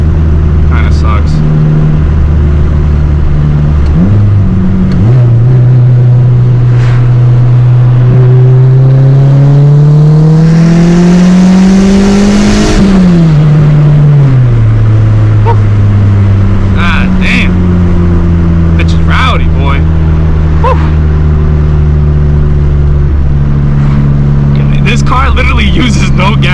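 A Honda EG with a turbocharged engine drives along, its loud engine drone climbing through the revs, peaking, then dropping back as it cruises, close and continuous, with a voice talking over it.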